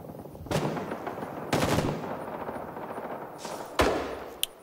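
PPSh-41 submachine gun fire in Rising Storm 2 on the Hue City map: several loud separated bursts of gunfire against a steady background of battle noise, with one final sharp crack near the end.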